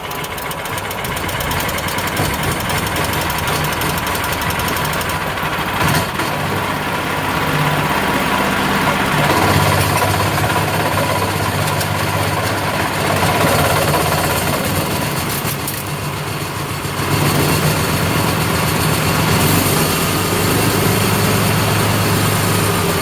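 A small non-Briggs engine on a flail mower runs steadily and loudly nearby, its rough, knocking idle throbbing with a slightly uneven beat and a brief dip in pace partway through.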